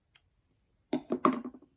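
Scissors cut through crochet yarn while a sock monkey scarf is being made. A single crisp snip comes first, then a short burst of close clicking and handling noise after a pause.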